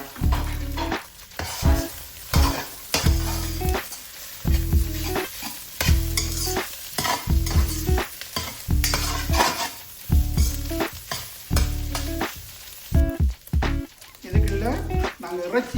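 Potatoes frying in hot oil during home cooking of idiyappa biriyani, with steady close sizzling broken by repeated stirring scrapes and clinks of a utensil against the pan, and voices talking over it.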